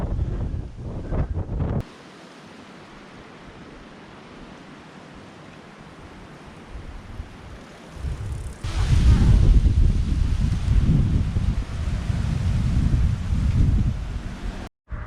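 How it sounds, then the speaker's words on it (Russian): Strong crosswind buffets the microphone on a highway between Shakhty and Matveev-Kurgan, heavy low rumbling roar that drops to a quieter hiss for several seconds, then surges back louder and gusty, with no talking. "Боковой ветер, конечно, тоже сильно прям"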